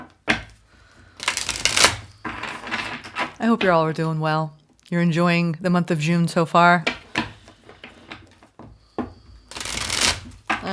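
Tarot cards being shuffled in quick riffling bursts, the papery flutter repeating several times while someone talks between and over the shuffles.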